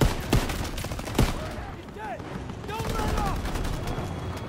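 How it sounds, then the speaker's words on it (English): Gunfire crackles in the World War II shooter Call of Duty WW2, two sharp near shots followed by scattered distant fire and battle noise, with shouting voices mixed in. "Who the fuck's shooting at me?"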